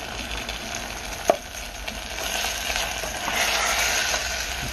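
Yukgaejang base being stir-fried with meat for yukgaejang ramen: a steady, soft broadband sizzle and occasional stirring scrapes, including one sharp clack, continuous and fairly close without talk.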